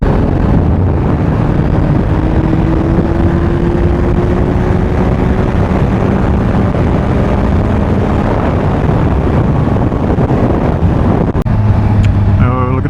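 Constant loud wind roar buffets the microphone while riding a motorcycle in terrible weather, a steady low engine drone running beneath throughout, with a brief clunk near the end.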